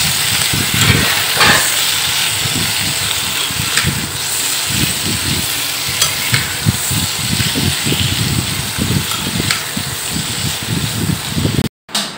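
Capsicum frying in a pan with spices for paneer masala, a steady broadband sizzle running throughout with irregular low clatters from stirring, fairly loud and close, with no talking.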